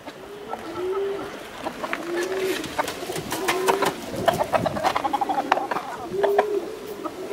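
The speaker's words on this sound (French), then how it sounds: "si vous voulez écouter le cri des poules et des coqs chinois" Chickens at the foot of the Great Wall of China on a hot day, with repeated coos and clucking calls and a crowing rooster among them, set against outdoor background noise.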